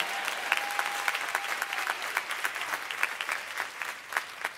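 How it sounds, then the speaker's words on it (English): A church congregation gives a big round of applause, many hands clapping with distinct individual claps popping out of the steady crowd wash, fairly close and lively. "somebody give him a great big hand clap."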